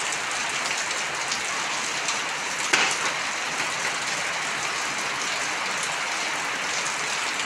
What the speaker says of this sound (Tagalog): naulan na dito guys sa amin